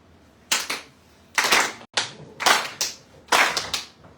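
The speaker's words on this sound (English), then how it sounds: "everyone clap your hands" Several bursts of hand clapping from a group at a Nrisimha Chaturdasi gathering, coming in uneven clusters of sharp claps with short pauses between them, fairly close and loud.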